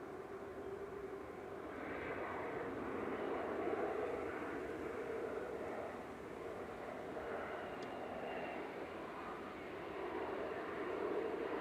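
KLM Embraer E190 airliner arriving from Amsterdam at Manchester Airport, a steady moderate jet roar held at middle distance for the whole stretch, with no talking.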